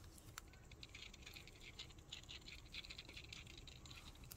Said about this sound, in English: the movement or the rotor, it's a little noisy